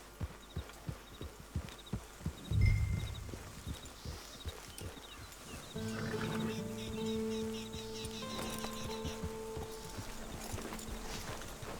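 A horse in the video game Red Dead Redemption 2, hooves clip-clopping in a steady, faint rhythm, then fading under a quiet ambient music bed with soft birdsong.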